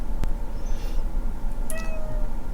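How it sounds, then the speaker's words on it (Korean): A cat meows a few times indoors, short tonal calls rising over a steady low room hum with a sharp click near the start. "1호 고양이가 들어왔어요."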